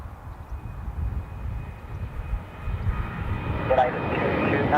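An Icelandair Boeing 737 MAX 9 jet at an airport lining up on a runway, a steady engine roar building gradually from a low rumble to a louder whine, distant and continuous, with a voice speaking over it.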